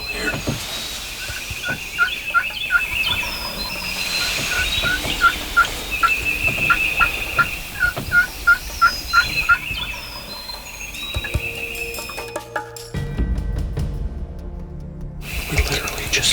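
Wild turkey tom gobbling repeatedly in a rainy field at a distance, the calls coming in bursts over steady rain patter, with a nearer rustle and tapping near the end.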